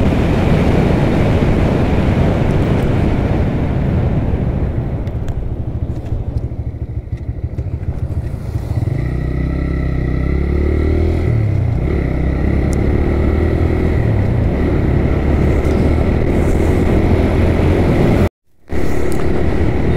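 A motorcycle ridden along the winding Daunne hill road from Bardghat toward Kathmandu: a steady, close engine drone under heavy wind rush, with revs climbing about halfway through and a brief cut-out near the end.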